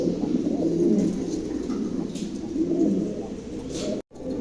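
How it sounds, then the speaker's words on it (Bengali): A pair of pigeons cooing close by, soft rolling coos repeating in a low, steady rhythm over light background noise, with no talking. "চমৎকার এক জোড়া কবুতর"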